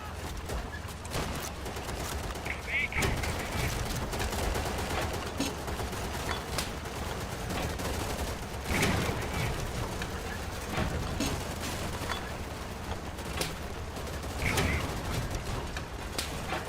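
Dense game gunfire in Easy Red 2 during a France 1940 battle, with rapid rattling bursts and scattered shots over a constant low rumble of tank and battle noise.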